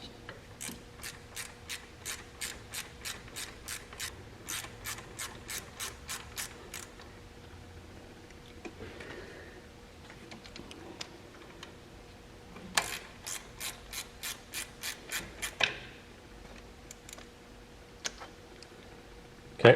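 Ratchet wrench clicking while removing a bolt from the fuel solenoid bracket of an Exmark zero-turn mower, a fast steady series of close metallic clicks, a pause with faint handling noise, then another burst of clicks.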